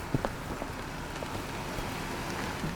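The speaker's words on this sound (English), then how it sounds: "Go, go, run, it's raining." Rain falls steadily as an even, dense hiss with faint scattered drop taps, continuous and fairly quiet across the whole stretch.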